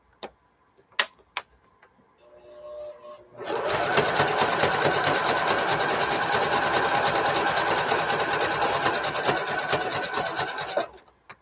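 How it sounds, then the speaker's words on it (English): Sewing machine stitching a rope basket with extra thread, running loud and steady for about seven seconds after a few quiet clicks and brief handling noises, then stopping abruptly. "I hope my sewing machine's not too noisy."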